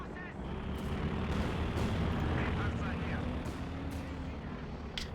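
Mortar and Sturmpanzer fire in a Company of Heroes 2 battle, heavy booming blasts layered in a dense, continuous rumble of gunfire, with a few sharp cracks standing out near the end.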